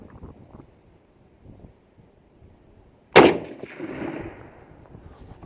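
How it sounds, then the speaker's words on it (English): A single loud rifle shot from a MAS 1936 in 7.5x54 rings out at an outdoor range on a windy day, followed by a decaying echo, with light wind noise before the shot. "Shooting at the old steel silhouette at 125 yards"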